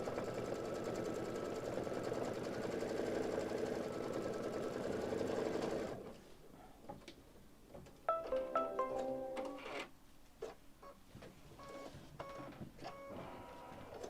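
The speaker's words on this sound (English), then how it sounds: "And now it's going to give me the tack down line for the wing." An embroidery sewing machine stitches an appliqué tack-down line for a wing on a mini quilt, first a steady loud mechanical whir, then quieter needle clatter with tonal beeps and intermittent stitching bursts.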